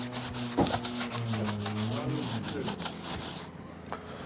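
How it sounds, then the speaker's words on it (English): T-Cut scratch remover is wiped gently across a metal dealer number plate for a Rover 75, making soft, close rubbing strokes over a few seconds with a faint click along the way. "I'm just going to gently wipe the T-Cut over it"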